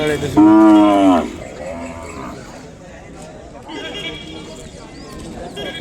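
A calf at a cattle market gives one loud, close moo near the start, followed by fainter lowing, with other livestock and people talking in the background.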